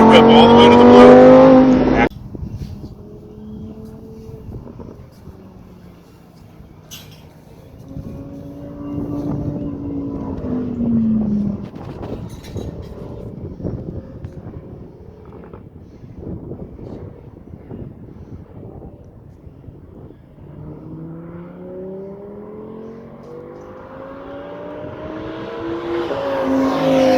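A Lamborghini Huracan Performante on the Speed Vegas race track opens with a brief loud roar, then drops to a muffled engine drone with voices at times. Near the end the engine note climbs again, rising in pitch as the car accelerates.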